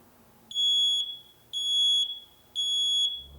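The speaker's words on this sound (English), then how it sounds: "Make smoke detectors a sound that you and your family can live with." A smoke alarm emits three loud, piercing beeps in an even rhythm, each about half a second long, separated by short silences.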